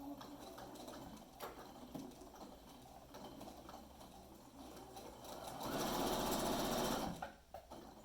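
A sewing machine stitches a fat quarter fabric bag, its low mechanical hum running steadily close by, then speeding up into a louder, denser burst of rapid stitching for about a second and a half before stopping.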